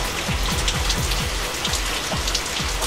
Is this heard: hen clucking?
no